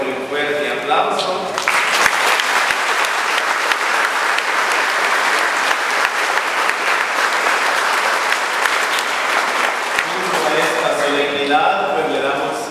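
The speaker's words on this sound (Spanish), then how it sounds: "Démosle un fuerte aplauso." Congregation applauding during a first Mass for two new priests in a church in Tejutla, Chalatenango: sustained loud clapping from many people for about eight seconds, bracketed by speech at the start and end.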